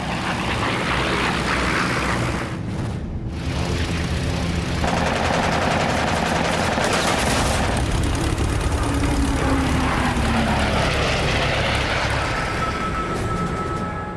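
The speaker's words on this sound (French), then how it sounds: "Les 6 mitrailleuses Browning du Mustang abattent le 3e Messerschmitt de la journée." The six Browning machine guns of a P-51 Mustang fire at a Messerschmitt in a dogfight, bursts of rapid gunfire over the loud, steady drone of propeller aircraft engines.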